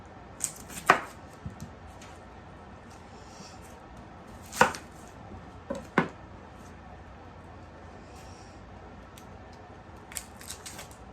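Half a yellow onion being chopped with a knife on a board: a few sharp, isolated chops spaced seconds apart, close and clear over a quiet room.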